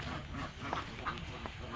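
Ducks quack in a close, busy cluster at a dirty pond, short nasal calls overlapping over a steady noisy background.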